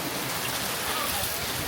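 Steady rain falls outdoors during a barbecue, a dense, even hiss of drops on surfaces that continues unbroken and fairly close.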